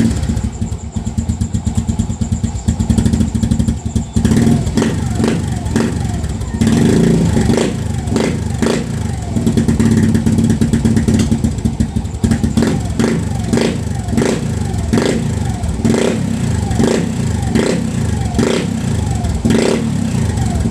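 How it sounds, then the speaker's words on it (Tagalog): A Suzuki Smash 115 motorcycle fitted with an Apido V4 exhaust pipe, packed with stock fiber and steel wool, idling close and loud with repeated throttle blips and a popping, rattly exhaust note throughout. "So yun, nadinig nyo na mga lods yung tunog ng Apido natin ngayon."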